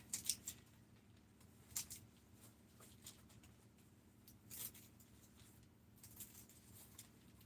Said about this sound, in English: Maybe I can cut more of the bottom off.